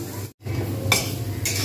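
Green chillies and asafoetida frying in a pan while being stirred with a utensil, a close sizzle broken by a brief gap and two sharp scraping strokes.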